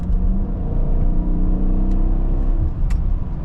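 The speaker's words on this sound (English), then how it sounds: "I'm gonna step on it once here, give it a little bit of gas." A 2014 Dodge Durango R/T engine with cam sensor and oil pressure trouble revs under a light press of the gas, a steady close rumble rising slightly and holding throughout with no talk.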